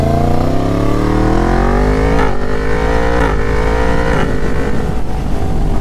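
A Yamaha FZ10 motorcycle accelerates hard, its loud, close engine roar climbing steadily in pitch through several quick gear changes.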